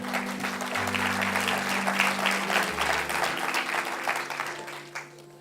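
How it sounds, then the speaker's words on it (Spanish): A church congregation breaks into sustained applause during a sermon, a thick, even roar of clapping with faint sustained tones underneath that tapers slightly at the very end. "denle un aplauso al Señor porque Dios les ha bendecido"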